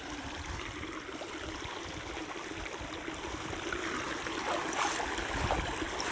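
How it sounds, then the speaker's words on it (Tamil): Water rushing steadily through a narrow channel in a fishing pond, a continuous close gurgling flow that swells slightly louder toward the end, with no talk over it. "தண்ணியெல்லாம் போயிட்டுருக்கு நிறைய பாருங்களேன்"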